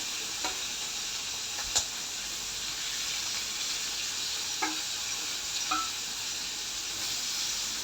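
Prawns shallow-frying in oil, giving a steady, close, even sizzling hiss with a few faint clicks and pops scattered through it.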